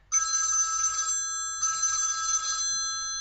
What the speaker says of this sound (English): It's not the phone, that's the bell.